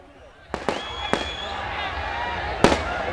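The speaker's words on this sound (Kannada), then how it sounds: "ಅಭಿಮಾನಿಗಳು ಪಟಾಕಿ ಸಿಡಿಸುವಾಗ" Firecrackers set off by fans at a crowded public gathering crack in several sharp, separate bangs over a steady crowd roar, with one louder blast near the end.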